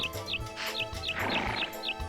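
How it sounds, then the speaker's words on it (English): A small bird in the farming game Harvest Moon 64 gives short high chirps, repeated in a quick, regular pattern of about two per second over soft background game music. "Oh, still one noisy little bird."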